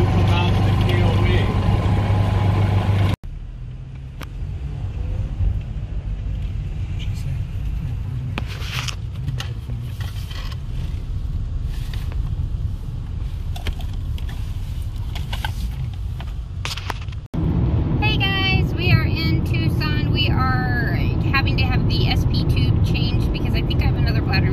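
Interior of a moving car on a drive, with steady low road and engine rumble filling the cabin throughout, a brief quieter stretch early on, and a person talking over the hum.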